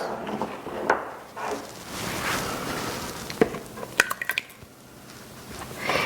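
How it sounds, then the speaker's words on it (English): Wet batter being stirred into dry ingredients for bourbon pumpkin bread in a small RV kitchen, with soft scraping and sloshing strokes broken by a few sharp clinks of utensil on bowl. "we're going to mix this in with our dry ingredients"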